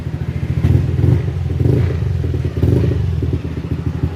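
A Yamaha NMAX155 scooter engine, facing a check-engine fault and hard-start trouble, idles steadily and close by, a low throbbing hum with faint mechanical clatter throughout.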